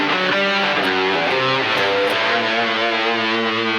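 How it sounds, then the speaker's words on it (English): A distorted electric guitar plays the final section of a song intro, a dense and steady stream of overdriven notes. It stays loud throughout and is heard alone, with no voices over it. "Final section of the intro sounds like this."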